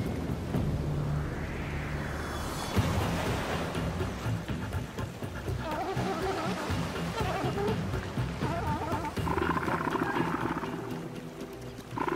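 Male elephant seals battling in the water, a continuous rough mix of deep guttural roars, bellows and churning splashes, loud and close throughout with no voices.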